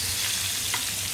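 Prawn-stuffed pomfret sizzling in a pan just after being flipped, a brief, even hiss of frying, close and constant with no other sounds.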